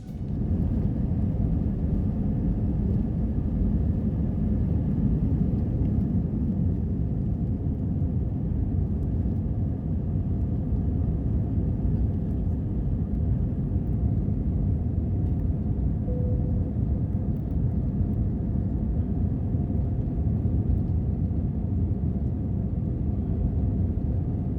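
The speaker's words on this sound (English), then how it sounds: "let's sit back and enjoy the takeoff" An Airbus A320-200 airliner takes off, heard from inside the cabin. A steady, dense low roar of engine and airflow noise runs throughout at even loudness.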